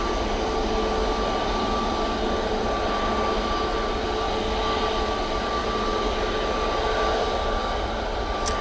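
Airliner departing Manchester Airport bound for Gran Canaria, a steady broad roar of jet engines at moderate distance, sustained and even throughout with no voices.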